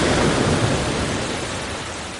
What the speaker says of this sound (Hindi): तेज़ हवाएं चलने लगीं, ऊंची लहरें उठने लगीं और हल्की बारिश भी शुरू हो गई।